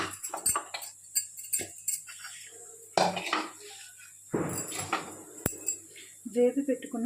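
Tamarind pounded in a mortar for a taro-root roti pachadi: close, irregular thuds and clinks come in short bursts separated by quiet gaps.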